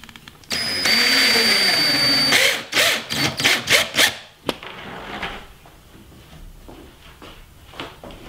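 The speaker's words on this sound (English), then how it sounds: "The next step is to attach the 2 tops together with a piano hinge." A power tool drives screws to fasten a piano hinge joining two wooden ping pong table tops, first with one long whir and then a string of short trigger bursts, followed by a few soft knocks.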